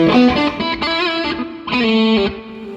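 Electric guitar phrases through a Providence Chrono Delay DLY-4 pedal, notes blurring into softened, darker echoing repeats, fairly loud and close.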